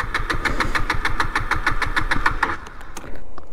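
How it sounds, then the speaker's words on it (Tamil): KTM Duke 250 Gen3 motorcycle engine cranking on the starter without catching, a fast rhythmic churning pulse lasting a few seconds, loud and close, then cutting off into quiet clicks. "வண்டி ஸ்டார்ட் ஆகலைங்க."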